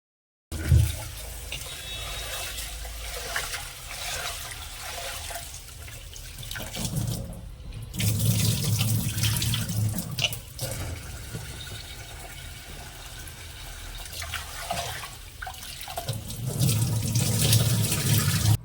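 Sorghum and ragi grains are washed under a running kitchen tap, with water gushing steadily at close range and a few brief breaks as the flow stops and restarts.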